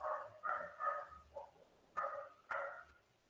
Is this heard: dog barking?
yes